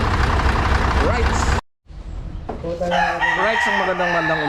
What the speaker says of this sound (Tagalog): Walang yang manok na to. Sumabay pa sa Tilaok.